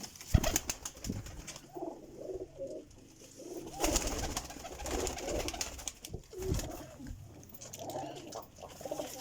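Taddy breed pigeons coo in soft, repeated rolling phrases, fairly faint and close, with a brief flutter of wings near the start.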